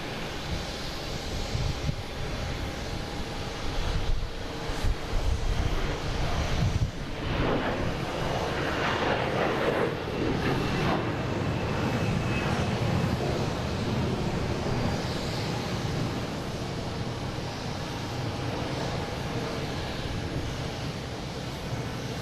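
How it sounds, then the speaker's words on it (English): A Delta Airbus A321 bound for Minneapolis takes off at Boston Logan International Airport, its jet engines building into a broad, sustained roar that swells midway and then holds as a steady rumble at a distance. "next taking off, we have Delta heading to Minneapolis"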